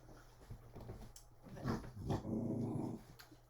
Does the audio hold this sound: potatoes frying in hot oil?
no